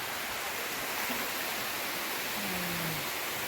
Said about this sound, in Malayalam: ഇവിടെ വെള്ളമൊക്കെ പോകുന്നുണ്ട് കേട്ടോ ഡാമിൽ തന്നെയാണ് പോണത്